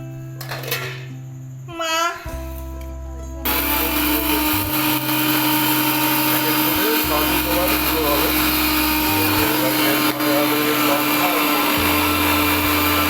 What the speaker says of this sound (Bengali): ভাজা হলো যে জিরা ধনে লঙ্কা, এবার এক এক করে সব মিক্সিতে গুঁড়ো করা হচ্ছে।